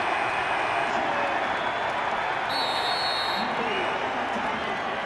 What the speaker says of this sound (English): Sold out Worthington Arena applauding the defensive effort.